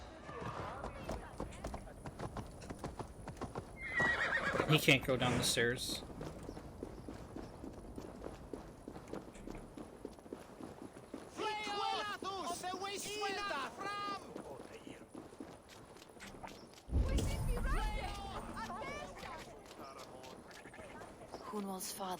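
Horse hooves clip-clopping in Assassin's Creed Valhalla as a horse moves about, with steady hoofbeats and brief bursts of louder movement, while someone talks over much of it and game characters speak.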